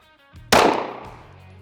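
A single loud pistol shot cracks sharply and sharply rings out, then its echo decays over about a second, with faint movement noise just before it during pistol marksmanship training.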